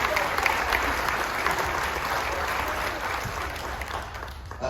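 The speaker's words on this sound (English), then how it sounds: "if we can get them another round of applause" A large audience aboard the Carnival Magic cruise ship applauds at a military appreciation gathering, a loud, dense, sustained wash of clapping that holds steady throughout.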